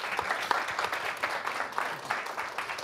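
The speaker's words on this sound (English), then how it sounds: "Please give a round of applause to the panelists" A summit audience gives the panelists a short, lively round of applause, close and continuous clapping with a bit of crowd murmur underneath.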